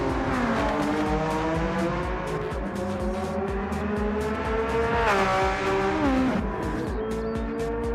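Porsche and Volkswagen Beetle racing in Gran Turismo 7, engines droning and shifting pitch continuously with tire squeal, steady and loud throughout, several cars overlapping.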